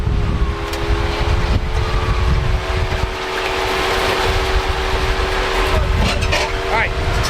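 A Jeep's winch hauls its cable on the rough Holcomb Creek off-road trail in Big Bear. It gives a steady whining hum under constant wind and engine rumble, with voices faint in the background.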